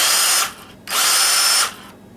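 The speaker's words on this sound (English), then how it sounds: "new style lithium ion battery mounted to old style nickel cadmium drill." A Black & Decker Firestorm nickel cadmium cordless drill fitted with a lithium ion battery whirs loudly in two bursts, a short run then a brief pause and a longer second run, alone and close up.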